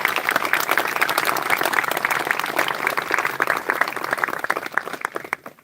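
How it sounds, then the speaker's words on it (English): Sustained applause from an audience at a memorial ceremony, dense steady clapping throughout that thins slightly near the end, with no talk over it. "Let's give them a round of applause."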